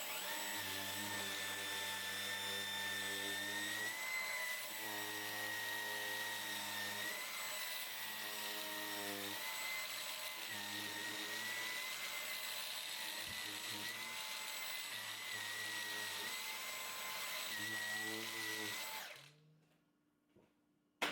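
A vacuum cleaner fitted with a small pet-hair attachment runs close and continuously, a steady high whine with wavering pitch as it sucks up hair, then cuts off near the end.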